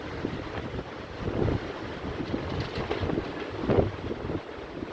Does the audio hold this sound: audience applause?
no